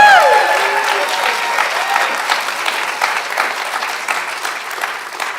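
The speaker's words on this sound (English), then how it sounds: "A great round of applause for the leader of this work, Dean Maureen Rubalcaba." An audience at a college convocation claps steadily, with dense, sustained applause that holds for several seconds and slowly fades a little toward the end.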